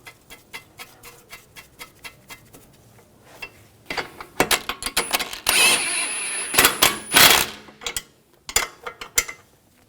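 A nut is threaded onto a bolt and ratcheted tight during front upper control arm work on a 2004-2009 Audi A4 Quattro: light sparse clicks at first, then dense, loud bursts of close ratchet clatter before it eases off.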